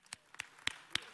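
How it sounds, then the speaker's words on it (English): Scattered hand claps at a city council meeting, four or five sharp, separate claps at close range, fairly faint, with no talking. "let's give them another round of applause"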